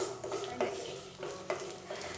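Raw peanuts being dry-roasted in a pan, rattling and scraping softly as a spoon stirs them in a few repeated strokes, close and quiet with no talking.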